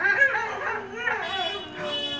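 A dog vocalizing close by in whiny, howling yips and drawn-out whimpers rather than sharp barks, continuous across the stretch.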